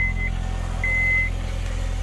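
A Honda Civic engine idles steadily just after starting, a low continuous rumble close by with a thin electronic beep sounding twice over it.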